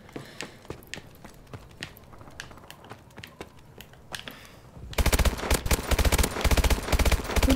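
Gunfire in Call of Duty Advanced Warfare gun game mode: scattered sharp shots at first, then a dense loud burst of rapid automatic fire in the second half.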